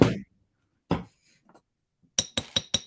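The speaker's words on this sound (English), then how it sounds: "I'm going to hammer the back." Small metal hammer striking the back of a wire-wrapped hoop earring: scattered sharp taps, then four quick bright metallic clinks close up, with no bench block underneath.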